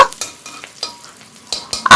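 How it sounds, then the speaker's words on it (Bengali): Chopped capsicum fries in a hot pan while a utensil stirs it, producing loud close sizzling broken by irregular scraping strokes, with no talking. "সেই ক্যাপসিকামটা দিয়ে হালকা করে একটু ভেজে নেব"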